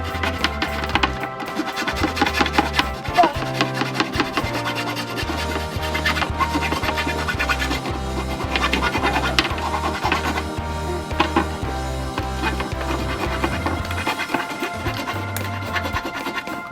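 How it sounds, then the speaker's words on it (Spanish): Wooden slats for a homemade window mosquito screen having their cut ends filed by hand, with steady rhythmic rasping strokes, close and loud, repeating evenly with brief pauses and no talking. "ahora vamos a limar un poquito las puntas."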